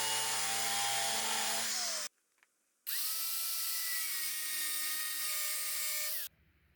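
A power tool cutting slits into a bolt for tractor wheel weights gives a loud, steady high-pitched whine in two long bursts, with a short pause between them and a change in pitch as the cut bites.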